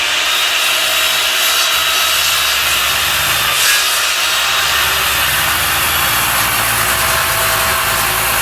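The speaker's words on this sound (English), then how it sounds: "Make sure you're not tilting that saw up when you cut." A saw makes long cuts into a wooden log while roughing out a shaving horse bench, a loud, continuous, gritty roar held without pause throughout, with no talking.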